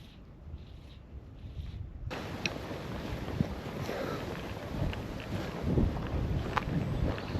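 Wind gusts steadily across the coast during sea trout fishing from a kayak, a continuous rushing buffet on the microphone after a quieter opening, with faint water movement beneath.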